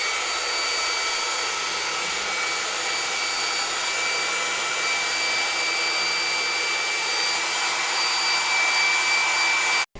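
A dryer blows steadily and loudly at close range to dry coloured rainbow wax on a turned wooden bowl, a constant broadband whoosh that cuts off abruptly at the end.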